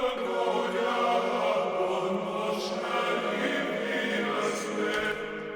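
Heavy metal sample blended with a layered choral vocal section, a thick sustained wash of voices over the band, loud and steady from start to finish.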